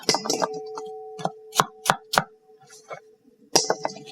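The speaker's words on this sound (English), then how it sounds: "I'm going to grab a chef knife and I'll get a little bit of peel off." Chef knife working on sliced apple, peeling and cutting with a few sharp taps against a board, set over a steady low hum, with short bursts of handling noise.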